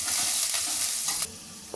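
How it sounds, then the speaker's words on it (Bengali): Ginger sizzles and fries in a hot wok, a bright continuous hiss with soft stirring scrapes, cutting off abruptly partway through, then near silence with one small tap. "আমি আদাটা কড়াইয়ের মধ্যে দিয়ে দিয়েছি। এবার আদাটাকে ভালো করে আমি ভেজে নেব।"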